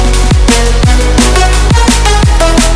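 Gritty saw-wave bass synth patch built in Serum and Vital, playing a loud, sustained rhythmic line with repeated pitch-dropping plucks roughly every half second, dense and buzzy with no voices.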